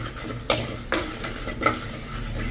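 Chicken giblets fry in a hot clay pot as a spoon stirs and scrapes them, making three distinct scraping strokes over a steady low sizzle, close and fairly loud.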